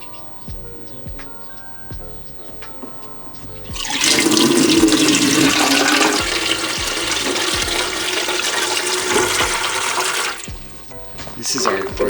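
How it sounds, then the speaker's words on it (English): Rainwater runs off a roof and pours into a small 100-liter garden tank, a loud sustained gushing and splashing that starts abruptly after a quiet stretch with a voice, then stops with a few trailing drips. "the water is now coming down off of the roof, and instead of flooding the garage, it's going into this little tank"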